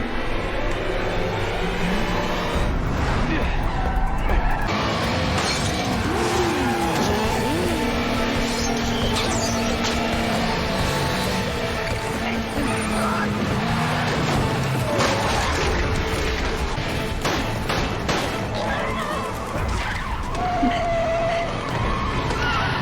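Car speeding along in a TV chase scene, its engine roaring with tire squeal and skidding under a dense, loud soundtrack throughout.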